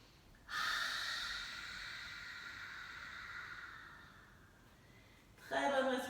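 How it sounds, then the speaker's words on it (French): A long, forceful breath is pushed out through an open mouth with the tongue stretched out during hatha yoga practice. It fades slowly, and a sharper breath follows near the end, close and fairly quiet. "Très bonne respiration qui permet de relâcher toutes les tensions des mâchoires."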